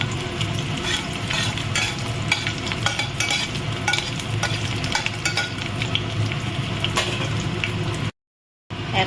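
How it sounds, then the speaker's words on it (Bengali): Whole garam masala and bay leaves hitting hot oil in a pan, giving a steady, close sizzle with scattered crackles and stirring scrapes that carry on for about eight seconds before cutting off abruptly. "তেলটা গরম হয়েছে, এর মধ্যে আমি গরম মশলা আর তেজপাতাটা ফোড়ন দিলাম।"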